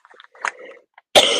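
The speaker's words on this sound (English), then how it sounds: "Just took out that little cough." A single short, sharp cough bursts out loudly near the end, after a few faint mouth and throat noises.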